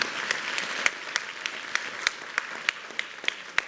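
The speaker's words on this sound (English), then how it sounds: "So give him a round of applause, please." An audience applauds steadily, a dense wash of clapping with individual sharp claps standing out, sustained throughout.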